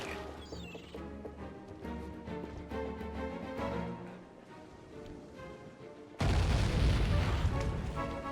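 Ship cannons fire in the video game Sly 3, where a loud booming explosion bursts in near the end over a backdrop of music.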